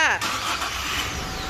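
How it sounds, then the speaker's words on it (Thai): A Toyota Revo Z Edition pickup's engine starts with a brief cranking burst and then settles into a steady idle rumble nearby, with a voice talking faintly underneath. "สตาร์รถค่ะ"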